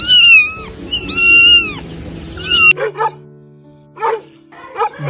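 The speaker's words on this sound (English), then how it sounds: "baby cat" A kitten gives three loud, drawn-out, close meows in a row, followed by several short dog barks.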